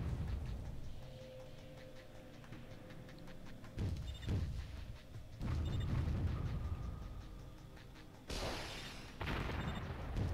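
Units fire on a mortar pit in the strategy game Warzone 2100, with several dull booming impacts and bursts of crackling fire over a low steady game background hum.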